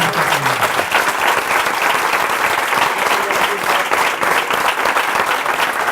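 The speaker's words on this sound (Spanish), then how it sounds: "Óscar y yo y Alicia, os pedimos un fortísimo aplauso para Silvia y para Carlos." An audience at a science talk applauds the speakers with loud, sustained clapping that fills the room for several seconds, close and dense, with only faint crowd murmur beneath.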